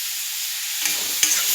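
Ginger-cumin paste frying in a pan for a taro and pumpkin curry, giving a steady bright hiss, with a couple of soft scraping stirs near the end, close by and with no talking.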